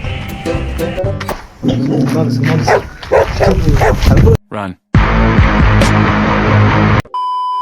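A dog barking outdoors near Karad in Maharashtra, several sharp barks mixed in among people talking, with a brief drop-out partway through.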